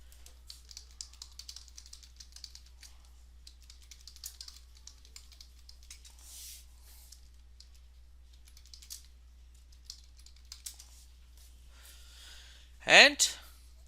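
Light clicking keystrokes on a computer keyboard tap along in quick, irregular runs, quiet and close over a faint low hum, with a louder brief sweep near the end.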